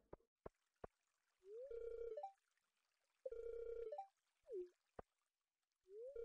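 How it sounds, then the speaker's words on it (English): A phone rings in the video game Stardew Valley, in repeated electronic bursts, each a sliding chirp into a sustained trill with short pauses between, close and clear with a few sharp clicks. "Ooh, phone making noise."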